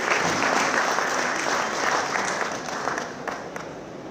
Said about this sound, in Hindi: तालियों की गड़गड़ाहट इतनी नहीं चाहिए